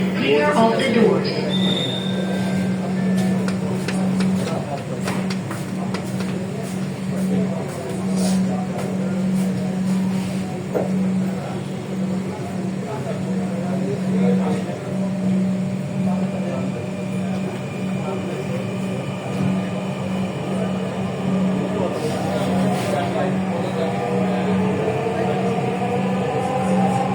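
A Dhaka metro rail train runs between Diabari and Uttara Center toward Motijheel, a continuous droning hum with a steady tone and some wheel squeal heard from inside the carriage, and onboard announcements spoken over it.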